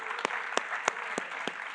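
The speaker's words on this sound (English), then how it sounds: "Everyone give a round of applause for the speakers." An audience applauds the speakers at a WordCamp conference in Montclair: steady, moderately distant clapping from a crowd, with a few sharper individual claps standing out over the dense wash.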